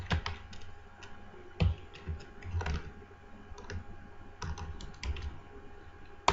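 Computer keyboard being typed on to enter a file name, steady close clicking of keys in short bursts with a few louder taps, no talking.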